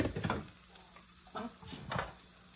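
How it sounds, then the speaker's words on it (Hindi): Onions dropped into a hot frying pan while cooking dal makhani, giving a soft, brief sizzle with a few stirring and pan scrapes, moderately close and fairly quiet. "ये फ्राई पैन में प्याज डाली"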